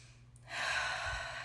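Slow, deep breath taken during a guided relaxation session while lying on the ground: a soft, airy inhale rising after a quiet pause and held steadily, close and gentle, with no talking.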